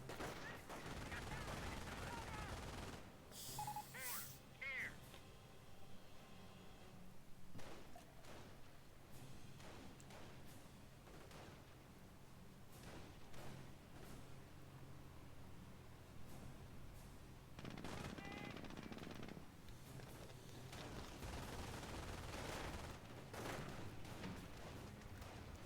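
Machine gun fire and other gunfire in the Company of Heroes strategy game, a faint, busy battlefield din of scattered bursts and shots at a distance under ongoing rumble.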